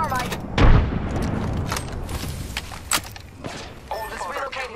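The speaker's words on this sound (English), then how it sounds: "Throwing thermite." A thermite grenade erupts in the Apex Legends battle with a heavy booming burst early on, followed by scattered gunfire cracks and game voice lines over continuous combat noise.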